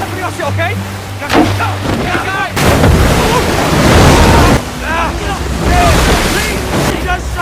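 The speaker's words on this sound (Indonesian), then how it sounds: "melihat arus sungai yang deras di depan mereka" Raft on a fast-flowing river rapid, a roaring rush of churning water and wind buffeting the microphone, with people shouting over it.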